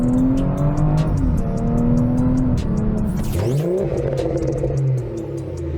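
A car with a tuned BMW B58 engine pulling hard, its loud rising engine note climbing through the revs with a brief gear change partway through, heard from inside the cabin with no talking.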